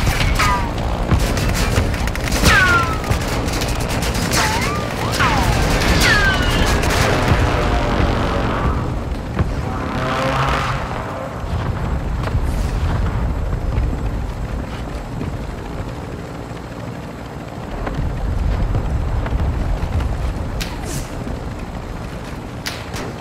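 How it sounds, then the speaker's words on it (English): Mortar strike explosions in a Call of Duty battle, heavy booms and rumbling blasts recurring over a dense roar of helicopter and battlefield noise for over twenty seconds. "Hostiles launched a mortar strike."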